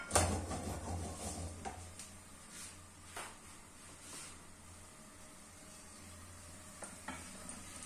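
Four cloves of garlic and onion fry quietly in a pan, giving a soft, steady sizzle broken by a few light clicks and scrapes of stirring throughout.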